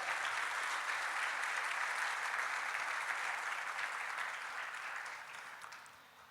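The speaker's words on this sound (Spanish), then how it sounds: "¿Por qué no le da un fuerte aplauso al Señor?" A Spanish-speaking church congregation breaks into loud, continuous applause during a Sunday sermon, a dense wash of clapping that holds steady and then fades out over the final seconds.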